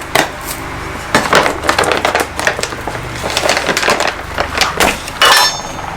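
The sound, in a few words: scooping soil mix into soil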